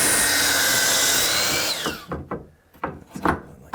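A power tool whines loudly as it cuts through a piece of hardwood flooring for a mudroom bench seat, then winds down and stops, followed by a few short knocks and rubbing sounds.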